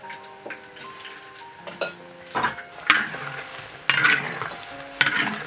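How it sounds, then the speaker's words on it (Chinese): Meatballs deep-frying in oil over low heat, a steady soft sizzle with sharper crackles and pops that grow louder toward the end, heard close with no talking. "小火小火一炸，火大了要糊。"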